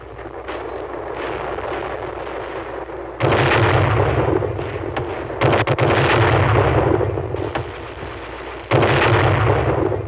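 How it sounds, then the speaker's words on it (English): Bazooka and 81mm mortar fire in a Korean War film, loud sustained booming barrage with heavy low rumble and sharper jumps in intensity, dense and continuous. "The bazooka. The 81mm mortar. Firepower and maneuver."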